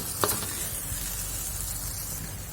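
Sambal tempoyak sauce being stirred as it sizzles in a pan, a steady close frying hiss with a brief scrape of the spoon near the start, continuous throughout.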